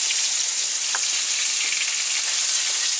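Oran-style meatballs frying quickly in hot oil, giving a steady, dense sizzle and crackle throughout, close and continuous with no talking.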